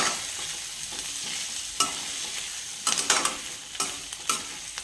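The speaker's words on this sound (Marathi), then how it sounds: "आता वरून कोथिंबीर घालून घेते. थोडंसं परतूया 5 मिनिट" Potato sautés in a pan with coriander added on top, a quiet continuous sizzle broken by intermittent spatula scrapes and taps.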